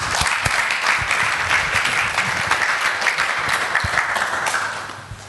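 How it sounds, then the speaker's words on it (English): An audience at a budget consultation roundtable with Fiji's Attorney-General gives a sustained round of applause, dense and close, tapering off at the end. "So we give the AG another big round of applause."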